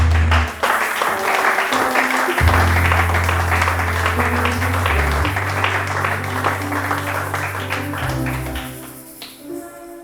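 A church congregation applauding to acclaim the Lord, dense and loud clapping that carries over a deep sustained musical backing and slowly thins out toward the end.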